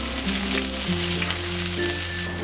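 Garlic, green chilli, curry leaves and shallots fry in hot oil for fish roe thoran, making a continuous close sizzle over a steady low hum.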